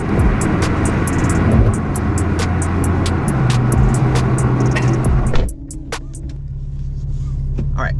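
A Porsche 997.2 911 drives along with a steady low engine drone and road rumble under the cabin. Sharp clicks tick through it, and the engine note drops suddenly near the end, as if the driver eased off the throttle.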